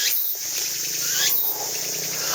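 Cicadas sing along a wooded trail near a bridge in Japan: a loud, steady, high buzzing drone with two rising sweeps that swell and fade, continuous throughout with no talking.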